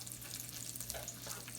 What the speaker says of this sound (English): let me fry down my diced pieces of Tasso